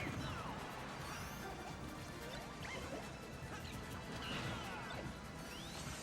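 Up smash attacks in a Super Smash Bros. for Wii U grand finals match, a rapid stream of crashing hits and swooshing swipes layered over dense game noise, fairly faint throughout.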